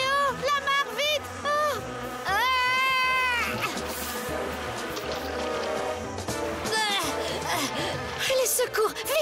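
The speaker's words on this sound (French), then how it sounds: "Un essaim d'abeilles?" A cartoon swarm of bees buzzing, a dense, continuous drone under excited voices and music.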